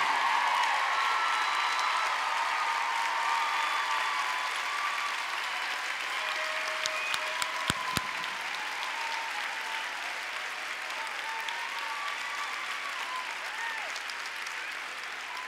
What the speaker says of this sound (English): I want them to take a big, huge round of applause right now